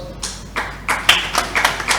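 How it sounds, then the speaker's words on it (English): A few scattered, sparse claps from a small audience at a medical conference session on bariatric surgery, close and uneven rather than a full ovation. "A big round of applause"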